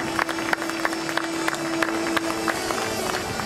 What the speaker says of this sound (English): let's give a big round of applause for the remaining skiers of the Wet Footers